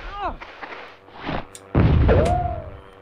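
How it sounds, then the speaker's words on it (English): A shrapnel grenade detonates in the Hogs of War video game with a sudden, loud close blast that decays over about a second, after a few lighter game sounds and a whistling tone. "Might have to throw a shrapnel grenade up there."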